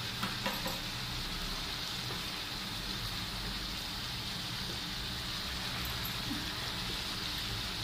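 Liver and skin fry sizzling steadily in a hot pan as coriander powder is stirred in, a constant loud hiss with occasional faint spoon scrapes, no talking.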